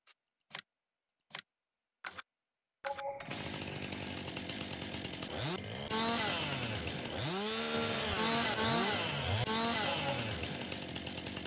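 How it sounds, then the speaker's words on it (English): Chainsaw in a farming simulator video game on a logging day, starting up after a few sharp clicks and then running loud and steady, revving and bogging repeatedly as it cuts through logs. "Oh, she's a fast saw."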